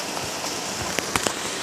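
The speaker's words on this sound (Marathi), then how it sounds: "आवडा पाऊस पडतोय" Rain falls in a steady, even hiss, with a few sharper drip-like taps near the middle.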